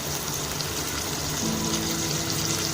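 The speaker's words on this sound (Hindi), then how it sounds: "अब इसमें हम थोड़ा पानी डालेंगे और इसको गलने के लिए रखते हैं" A steady, gushing stream of water pours into a pot of cooking smoky yogurt chicken, continuous and fairly close, with no talking.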